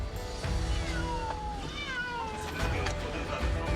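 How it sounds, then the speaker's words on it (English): A cat meows several times in drawn-out rising and falling cries, moderately near, over faint background noise in an area affected by the Kakhovka dam destruction. "How many cats do you have here?"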